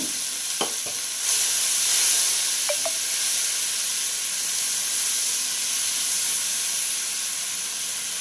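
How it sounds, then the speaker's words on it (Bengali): Spice paste for Bengali begun basanti (aubergine dish) fries in hot oil with a loud, continuous hissing sizzle, punctuated early by a few sharp utensil scrapes and taps as it is stirred, close up and without talk. "এবার যে মশলা পেস্ট করে রেখেছি সেই মশলা আমি অ্যাড করে দিচ্ছি ভালো করে নেড়ে চেড়ে কষিয়ে নেব"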